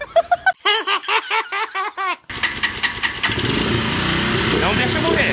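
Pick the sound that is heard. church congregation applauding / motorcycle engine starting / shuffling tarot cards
motorcycle engine starting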